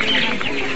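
A flock of chickens on a farm of about 5,000 birds in a village in East Lampung clucks continuously and loudly, many overlapping calls forming a steady, close chatter.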